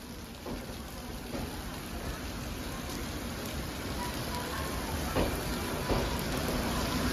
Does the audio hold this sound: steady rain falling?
yes